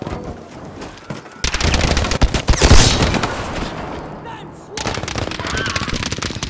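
Anti-tank weapon fire in a World War II shooter game, heavy bursts of gunfire and booming blasts rolling over each other for several seconds, loud and close, with a brief lull midway.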